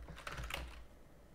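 Computer keyboard keys tapped to steer a player left, right, forward and back in a game built in Core: a brief run of soft, close clicks, fairly quiet, with no voices.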